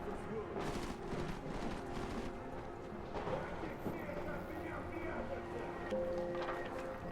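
Gunfire in the video game Deus Ex: Mankind Divided, distant bursts and shots in the game's background while someone talks over it in French.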